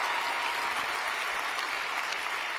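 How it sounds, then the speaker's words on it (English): Audience applause at the AmericaFest 2021 conference, a dense, steady wash of clapping from a large crowd that holds evenly throughout with no voices over it. "Joe Manchin, he deserves a clap."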